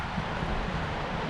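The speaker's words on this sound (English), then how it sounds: "oh, windy." Outdoor wind buffets a microphone in a garden where free-range chickens roam, a steady close rumble that lasts the whole short moment.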